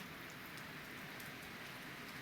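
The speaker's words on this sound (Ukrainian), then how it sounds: "Криша гуде. Значить, дощ крупний, капля крупна йде." Steady, dense heavy rain with large drops patters, drums and hisses on a roof overhead, a continuous even wash of sound with no voices.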